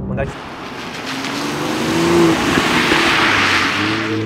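A BMW M2 engine accelerates hard while drifting, its pitch rising steadily over squealing tires, as someone speaks over the car noise.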